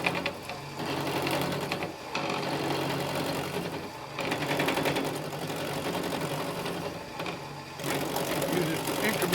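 Wood lathe spinning a square baluster blank while a turning tool cuts it down to a cylinder, a steady loud mechanical drone with rhythmic cutting chatter that pauses briefly every couple of seconds.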